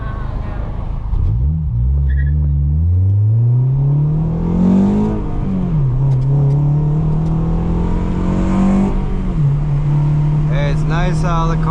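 An Acura TSX CL9 drives through Florida streets, its engine revving up through gears in rising sweeps with shifts between them, heard from inside the car.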